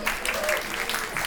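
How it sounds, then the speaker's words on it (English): A conference audience applauds in a steady dense patter, a broad even wash with no pauses, fairly close and moderately loud across the short stretch. "Give Kat a round of applause."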